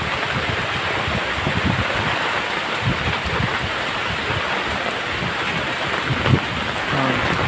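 Steady, dense downpour of heavy rain, a constant loud hiss with occasional heavier patters and thumps, no voices.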